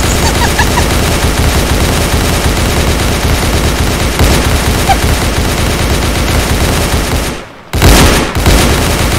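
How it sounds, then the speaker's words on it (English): Dense rapid gunfire from a video game gun rattles on almost without pause, loud and continuous, with a brief gap before the shooting resumes. "You've shot well over 75 bullets."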